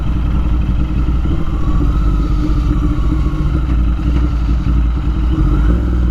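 A Royal Enfield Interceptor 650 engine hums steadily up close while gears are shifted, a continuous mid-pitched thrum with light mechanical clatter running throughout.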